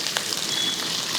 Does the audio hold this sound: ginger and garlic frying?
yes